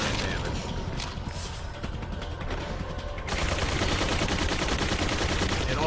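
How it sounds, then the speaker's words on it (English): A Gatling gun fires a dense stream of bullets in Resident Evil 2, a steady mechanical clatter that turns louder and thicker partway through, with no voices. "those Gatling gun bullets don't kill you, they do a really large amount of"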